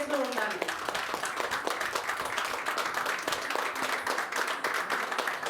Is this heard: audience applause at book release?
yes